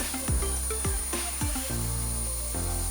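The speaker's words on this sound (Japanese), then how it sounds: "そして今回のバッテリー交換式。" A battery-swappable electric car-drying blower runs nearby, a steady loud whoosh with a high motor whine and a few pulsing sweeps early on, alone without speech.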